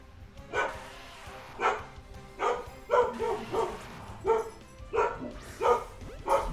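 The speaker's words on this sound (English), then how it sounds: "Man, the dogs are noisy today." Dogs bark repeatedly nearby, roughly eight sharp barks in an irregular rhythm with short gaps, fairly loud over a low background rumble.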